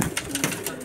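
Pigeons coo in a brief, soft, throaty burble, close by, with a voice talking over them.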